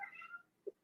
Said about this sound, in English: I don't know if you guys can hear one of my cats crying in the background.